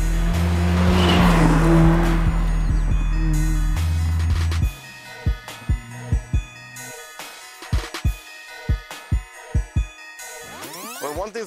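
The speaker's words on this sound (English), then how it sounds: "keep that exhaust note right there, keep it in the power band" A Mercedes-Benz GLA 45 AMG engine roars loud and close under hard acceleration, then drops into a burst of sharp exhaust pops and crackles spaced in quick succession, ending with a rising rev.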